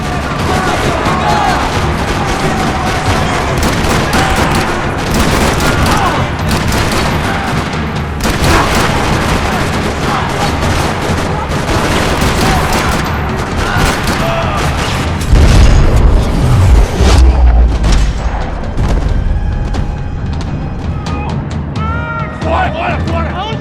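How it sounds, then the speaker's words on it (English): Dense, loud bursts of gunfire and booming blasts rattle continuously in a parking lot in the video game Max Payne 3, with a heavy low thump midway and a game soundtrack churning underneath. "Another parking lot rattling with gunfire."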